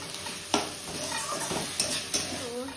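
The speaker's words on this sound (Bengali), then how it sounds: "এখানে পেঁয়াজকলি আর বেগুনটা প্রায় ভাজা হয়ে এসছে।" Eggplant and spring onion fry in a pan at home, a steady low sizzle with a utensil stirring and a few clinks against the pan, close and fairly quiet, with no talk.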